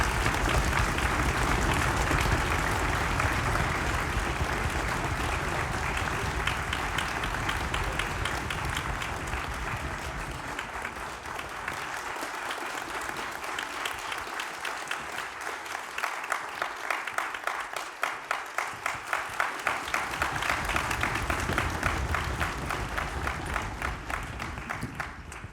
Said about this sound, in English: Give them a warm round of applause.